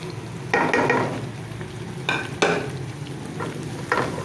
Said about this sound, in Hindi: बस 2 मिनट इसको भूनूँगी अच्छे तरीके से